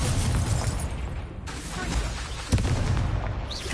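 A fiery spell cast in Hogwarts Legacy erupts as a dense, roaring burst, with a sharp blast near the middle and a crackling whoosh sustained throughout, loud and close.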